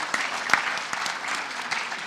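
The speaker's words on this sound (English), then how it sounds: "Let's give Marshall a round of applause for his efforts" A crowd applauding steadily at an FFA banquet, dense clapping from many hands filling the space at moderate loudness, with a few sharper individual claps standing out.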